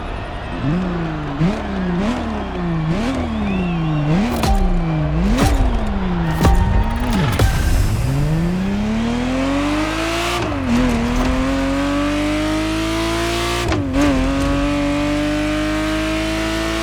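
A Ferrari Testarossa racing in The Crew Motorfest, its engine revving hard through repeated upshifts with rising and falling pitch, then a long sustained climb at high speed, loud and close with no talk.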